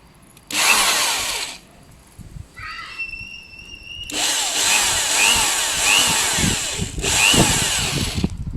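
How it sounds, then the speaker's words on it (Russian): A cordless drill or screwdriver bores a 4 mm hole into the underside of a Volkswagen Jetta side mirror housing, with loud whining bursts separated by short pauses and brief higher tones between them. "И нам нужно просверлить отверстие"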